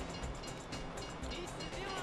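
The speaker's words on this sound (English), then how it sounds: "This is a fucking train." A train rumbles past in the GTA 5 video game, a dense, steady roar of rail noise with broadband rattling that stays loud and close for the whole stretch, with no voice over it.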